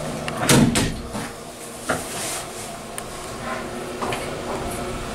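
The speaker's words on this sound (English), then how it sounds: "suppose the door closes automatically" An old Otis or Montgomery elevator door at the Capitol Park Hotel in Sacramento sliding shut, with a close thump and rattling mechanical rumble over a steady cab hum.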